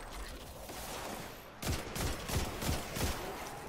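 Gunfire in Destiny 2 comes as a run of rapid, punchy shots in quick succession after a quieter stretch, moderately loud with a few heavier thumps.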